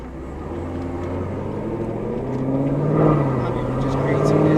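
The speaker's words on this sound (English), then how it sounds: "The downshifts on this thing sound so good." A cammed Cadillac CTS-V V8 engine rumbles loud and close from inside the car, its low harmonic drone rising and shifting pitch around the midpoint as it accelerates and downshifts, steady throughout with faint talk beneath.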